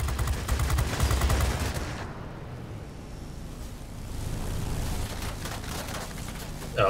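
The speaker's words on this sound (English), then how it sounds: "Oh, I'm being shot at again." Dense, continuous rattling gunfire and engine roar in a flight combat game featuring the F7F hunting bombers such as B-17s, loud and sustained with brief lulls.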